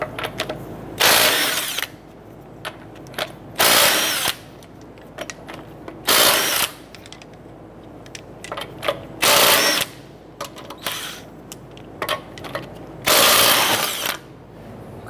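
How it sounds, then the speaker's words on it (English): A 19 mm socket on a ratchet or impact tool spins lug nuts off a 2008-2012 Honda Accord wheel, five loud, whirring bursts of about a second each, separated by short pauses and softer clicks. "we're gonna go ahead and remove our lug nuts."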